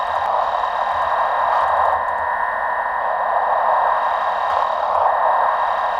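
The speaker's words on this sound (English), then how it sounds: "It's just making like white noise, and it changes volume." Steady hiss of white noise from a machine in the Myst video game, broad and constant, rising and falling slightly in volume, with faint high tones running through it.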